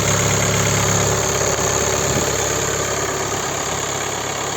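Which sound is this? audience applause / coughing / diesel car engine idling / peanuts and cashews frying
diesel car engine idling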